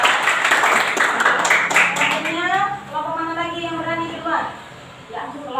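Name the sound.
classroom applause for Zara's group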